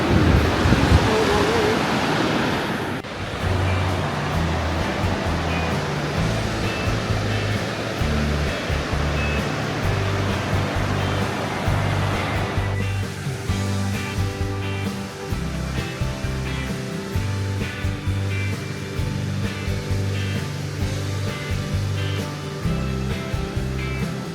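Water rushes at a waterfall on a Wyoming falls trail. The roar is dense and continuous, with wind buffeting the microphone at the start, and it stays loud throughout with no clear talk.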